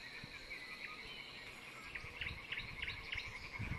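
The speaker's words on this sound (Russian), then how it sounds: "птички поют" Faint, distant birds chirp in short repeated bursts over quiet outdoor background noise in a Ukrainian village.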